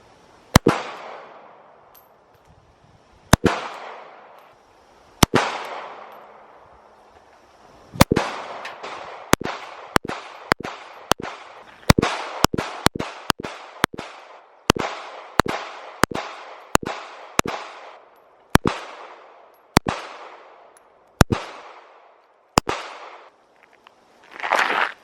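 Shots from a Bodyguard 2.0 pistol ring out one after another, sharp loud cracks each trailing a short echo, spaced unevenly and at times in quick bursts, with no talking.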